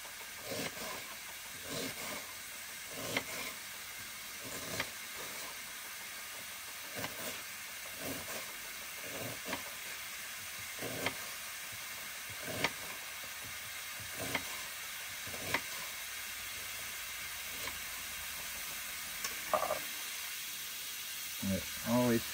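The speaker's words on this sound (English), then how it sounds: "This fry pan really heats up really good and really quick on this little stove." Food fries in a fry pan on a small camp stove, a continuous close sizzle and hiss carrying a series of soft clicks and taps, with a few louder clatters near the end.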